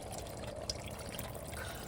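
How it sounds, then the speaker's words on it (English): Water from a can poured steadily into a large soup pot, a continuous splashing, filling wash that stays fairly even and close for about two seconds with no speech. "put about 2 cans fulls of this water into this pot"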